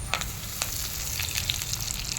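Curry leaves crackle in hot tempering oil for a mint chutney, a steady close sizzle punctuated by sharp pops and spits.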